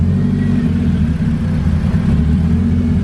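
A turbocharged K20 engine swapped into an MR2 Spyder runs in a shop, a close, loud, steady low rumble with slight wavering in pitch, alone with no talking.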